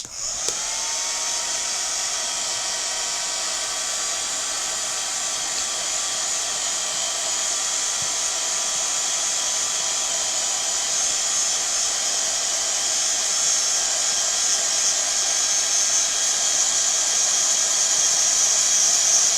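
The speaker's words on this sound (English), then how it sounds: "I'm just going to give it a very quick blast with the heat gun just to make sure it's dry" A heat gun blasts stamped ink on a handmade card to dry it, producing a loud, steady whirring hiss with a faint whine that runs unbroken for about twenty seconds and grows slightly stronger toward the end, with no talk.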